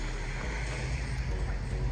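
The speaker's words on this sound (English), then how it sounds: "right here in front of the hotel, there's this water taxi" Waves and sea wash around a water taxi boat on the ocean in front of a beach hotel at Cabo San Lucas, a steady broadband rush with low rumble and some wind, no talking.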